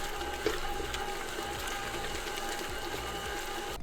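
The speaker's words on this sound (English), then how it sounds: "I'm going to use my paddle attachment and I'm going to mix that up" Stand mixer with a paddle attachment churning meatball mixture and an egg in a bowl, a steady mechanical whir with soft rhythmic clunks and wet slapping, moderately quiet and close, ending abruptly.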